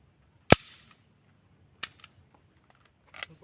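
Pistol shots fired with reloaded full metal jacket ammunition: three sharp cracks spaced over a few seconds, the first loudest, each with a short fading tail against a quiet background.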